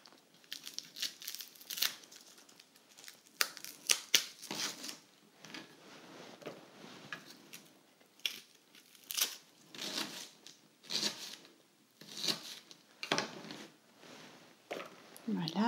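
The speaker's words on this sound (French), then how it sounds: "l'échalote que je vais éplucher" Papery crinkling and tearing as a shallot is peeled by hand for a vegan, gluten-free plant-based steak, coming in short scattered bursts, close and fairly quiet, with soft handling noises between them.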